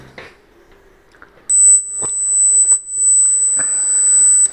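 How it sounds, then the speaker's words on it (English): Steady, thin, high pure test tone of 8000 Hz from a hearing test, starting abruptly and holding unbroken at a constant level over faint background noise. "We are sure you can hear 8000 Hz easily."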